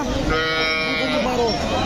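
A Friesian dairy cow lets out a long, low moo, close and loud, with people talking around it at a cattle sale.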